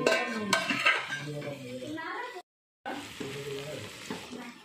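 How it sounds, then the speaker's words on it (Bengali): Water is poured into a pan of sizzling fish curry made with green tomatoes, giving a frying hiss and bubbling with spoon clinks, close and moderate, broken by a short silence. "এবারে আমি অল্প করে জল ঢেলে দিচ্ছি।"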